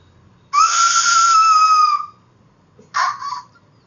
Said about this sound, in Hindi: बजा सीटी बजा।